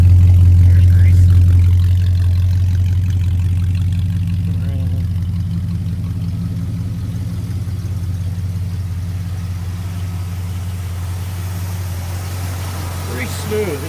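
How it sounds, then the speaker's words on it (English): A 1970 Ford LTD engine idles with a deep, smooth, steady rumble close up, heavy at first and then settling slightly quieter, while a person talks over it. "It's actually a very smooth running car"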